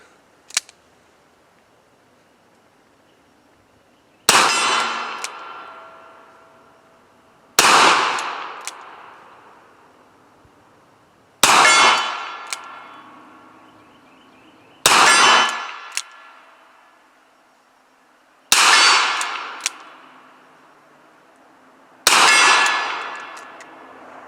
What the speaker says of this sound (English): This is pretty fun to shoot with 45 ACP.